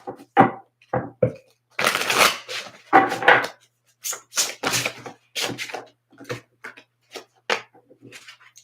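Tarot deck being shuffled by hand, a run of short papery riffles and slaps in bursts with brief pauses, close and fairly loud, no talking.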